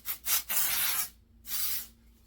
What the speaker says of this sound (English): We're gonna do a little bit of texture spray, not too much because I want my hair to still be really movable